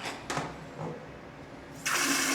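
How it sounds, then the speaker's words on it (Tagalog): A hotel bathroom toilet bidet sprays water in a steady hiss with a brief burst, then a louder, stronger spray surges at the end. "Bidet check natin para sure."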